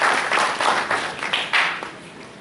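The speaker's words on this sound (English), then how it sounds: "Please, a round of applause for all these important dignitaries." Audience applause for dignitaries at a banking and finance department event, a dense wash of clapping from a sizable crowd that swells and fades in waves over a couple of seconds.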